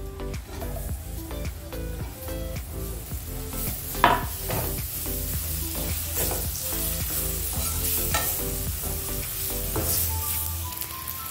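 Finely chopped tomatoes sizzle and fry in a pan while a spoon stirs and scrapes through them in steady strokes, close and continuous, with no voices.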